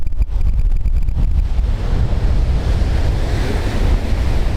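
Steady wind buffeting the microphone over surf breaking at the seashore, a loud continuous roar of waves and gusts with no voices.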